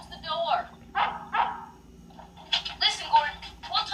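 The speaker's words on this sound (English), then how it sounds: "did they sample those barks from Lassie? Because they sound awfully familiar" Dog barks from the soundtrack of the 1984 slasher film Friday the 13th: The Final Chapter, a run of sharp barks in short bursts, some layered with speech-like sounds, moderately loud throughout.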